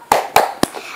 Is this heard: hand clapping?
yes